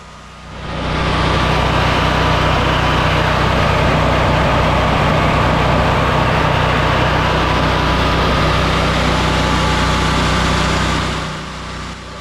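A Powerhouse 27,000-watt portable generator engine runs at a steady, loud, even drone that rises in at the start and drops away at the end, with no talking.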